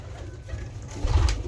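Teddy breeder pigeon cooing close by, a short soft low coo rising near the end over faint room noise, with no talk.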